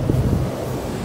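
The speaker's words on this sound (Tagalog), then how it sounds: "umiikot yung hangin" Strong wind swirls outdoors in snowy Canadian weather, a loud, continuous rumbling buffet across the microphone with no voices.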